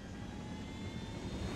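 A helicopter in the game Ghost Recon Wildlands flies with a steady, loud, broadband rotor and engine roar that holds without a break.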